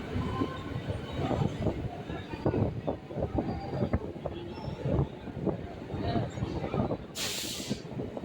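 A train at Nalpur railway station rumbles past close by with heavy rolling clatter and rhythmic wheel knocks, a brief sharp hiss near the end, and a voice faintly underneath.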